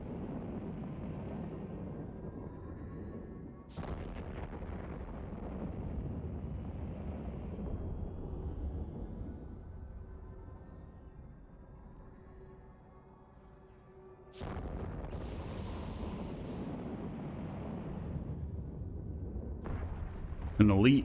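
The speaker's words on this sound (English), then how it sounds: "This guy's shooting me with thermal." Thermal weapon fire striking a ship in EVE Online, deep rumbling booms arriving in a few heavy sustained waves with quieter stretches between, with low ambient drone underneath.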